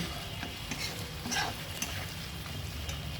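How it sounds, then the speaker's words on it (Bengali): Shrimp cooked with spices in a pan give a low, steady sizzle with faint intermittent stirring scrapes, quiet and close, with no one speaking. "এবার চিংড়ি মাছগুলোকে মশলার সঙ্গে একটু কষিয়ে নেব।"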